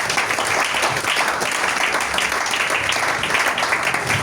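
A church congregation applauds and cheers in a dense, sustained wash of clapping and voices that stays steady and fairly loud the whole time.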